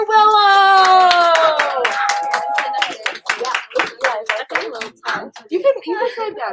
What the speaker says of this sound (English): Big round of applause for Willow.